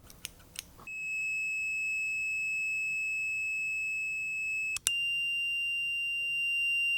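A few clicks, then a sustained pure electronic buzzing tone that briefly cuts out and resumes slightly higher, like an EBow buzzing against metal scissors.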